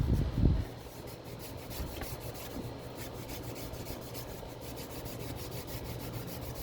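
Scuff pad scrubbed against a Ford differential cover with oil as a lubricant; a close, continuous abrasive rubbing that follows a brief louder knock at the start, with no speech.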